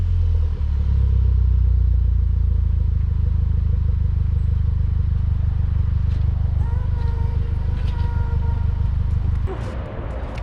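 A MK6 VW Golf GTI with a stainless steel exhaust idling warm, a loud steady low rumble running throughout with a few light clatters near the end.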